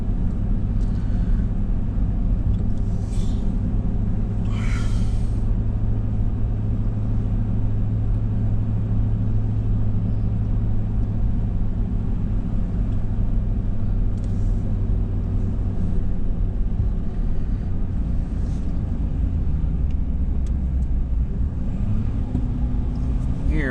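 A pickup truck hauling a heavily loaded hay trailer without trailer brakes rolls downhill in first gear, giving a steady, loud low engine drone and road rumble throughout with no talk.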